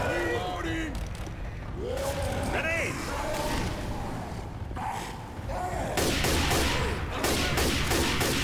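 Hunting rifle gunfire in Left 4 Dead 2, a series of sharp shots during a zombie fight, mixed with voices and other game sounds throughout.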